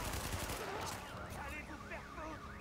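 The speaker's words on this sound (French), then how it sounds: "Ah, je me fais tirer depuis le côté." Gunfire striking the player from the side in the online shooter The Division, rapid bursts of shots in a busy firefight with a warbling siren-like tone rising over it, fairly loud and continuous.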